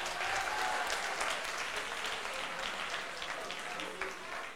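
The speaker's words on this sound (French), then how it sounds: "Est-ce qu'on peut les applaudir," Audience applause at a youth debate competition in Guinea, a steady, fairly faint wash of many hands clapping that holds for several seconds in a large room.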